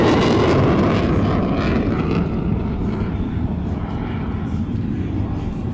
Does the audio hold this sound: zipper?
no